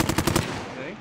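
Enemy gunfire in a video game, a rapid burst of about five sharp automatic shots that cuts off into a fading echo, fairly loud.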